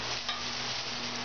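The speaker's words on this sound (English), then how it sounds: "So I'll just saute the garlic." Garlic sautés in oil over reduced heat, giving a faint, steady close sizzle with a brief stir.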